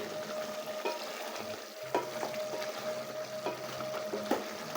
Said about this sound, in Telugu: ఇప్పుడు కారం వేసుకున్నాం కదా, చక్కగా కలుపుకోవాలండి చికెన్ని.